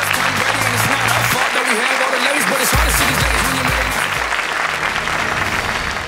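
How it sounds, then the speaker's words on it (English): Sustained applause fills the hall for the Banyana Banyana women's football team, newly crowned COSAFA Women's Championship winners, at the 2017 BBQ Awards ceremony; steady, dense clapping throughout, with a voice talking over it. "Give them a round of applause."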